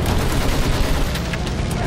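Dense machine gun fire crackles in a Battlefield 1 trench battle, a loud continuous fusillade of rapid overlapping shots with no pause.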